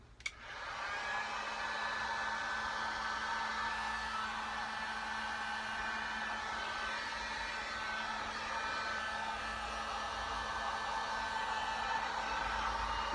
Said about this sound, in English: So hit your heat gun.